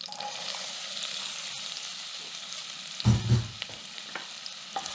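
Onions sautéing in a pan for green chili and potato soup, with a steady soft sizzle and a brief louder clatter of stirring midway.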